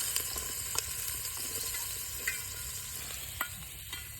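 Chopped onions fry in hot oil for a maize (makai) dish, a steady dense sizzle with occasional stirring clicks and soft scrapes throughout, close and continuous with no talking.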